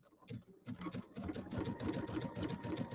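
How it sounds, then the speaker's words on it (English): A sewing machine stitches binding onto a winter wonderland settee pillow, running fast and steadily up close in a dense, even rhythm with no talking. "I can sew along on this pretty fast now"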